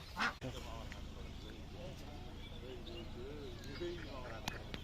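Village domestic ducks quack in a steady, overlapping flock chorus close by, with a brief louder burst near the start and a person speaking over the birds.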